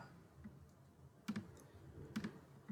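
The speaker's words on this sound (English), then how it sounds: "Type in Sevilla." Quiet, close clicks of a computer keyboard come in two short bursts of a few keystrokes each, faint over a low background hum, with no talking.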